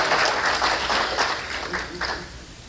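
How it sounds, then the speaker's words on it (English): An audience at a Lions Club International Foundation presentation applauds briefly, with a dense spatter of clapping that starts loud and slowly fades over a few seconds. "Well, somebody going to applaud."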